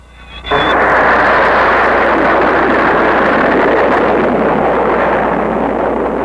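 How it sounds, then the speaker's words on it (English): A cartoon missile rushes through the air in a 1960s Iron Man animation, a loud, steady whoosh of wind that bursts in suddenly after a brief high tone and holds for several seconds with no speech. "They shoot through the air so fast the wind resistance rounds off the nose cones."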